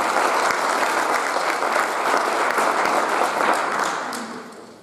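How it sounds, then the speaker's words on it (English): An audience at a school board event with a color guard breaks into loud, dense applause that holds steady for several seconds, then tapers off toward the end. "Let's give our 245 a big round of applause."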